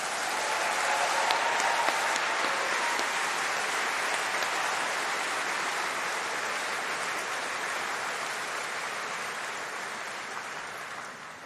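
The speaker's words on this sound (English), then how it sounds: "can we just give them a round of applause and some thank you?" Steady, dense applause from a big audience at a summer degree ceremony fills the hall, staying loud and even throughout before easing slightly toward the end.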